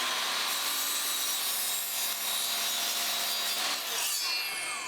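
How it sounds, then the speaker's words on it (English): A miter saw cuts a 45-degree angle at the end of a wooden grill scraper, roaring loudly and steadily through the wood before tapering off near the end. "Let's take this over to the miter saw, where we're going to be cutting a 45 right here at the very end,"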